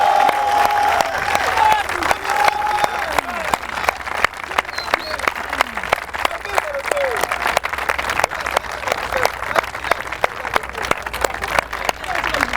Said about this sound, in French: On acclame le Seigneur Jésus-Christ.